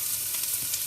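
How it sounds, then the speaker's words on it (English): Chopped onion hitting a pan of hot olive oil on a stovetop, giving a steady, close, bright hiss of sizzling frying with no talk. "I am just going to dump it into a pan"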